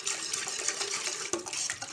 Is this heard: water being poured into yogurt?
yes